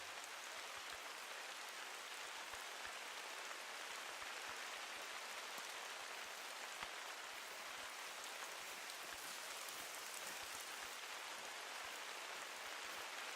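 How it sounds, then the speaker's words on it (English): Steady rain falls in the hunting game The Hunter: Call of the Wild, a dense, even hiss of drops on surfaces that continues without a break and sits quietly in the background. "Can't hear enough of this damn rain."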